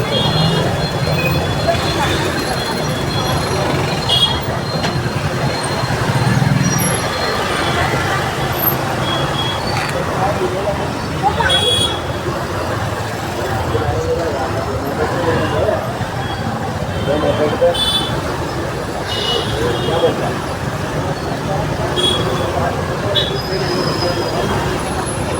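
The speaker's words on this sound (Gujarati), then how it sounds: "હવે અહીંયા બરાબર ટ્રાફિક જશે કારણ કે દોસ્તો મેટ્રોનું કામ ચાલે છે ને એટલા માટે." Dense road traffic beside a metro rail construction site, a continuous roar of buses, cars and trucks with engine rumble close by and a low hubbub of voices in the background.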